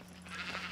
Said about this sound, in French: il rend visite à Thomas Flynn, un éleveur de moutons et de vaches.